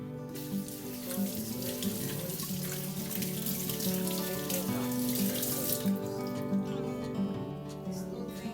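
Tap water running into a kitchen sink while soy sauce bottles are washed, a steady close splashing stream with faint clinks of glass throughout.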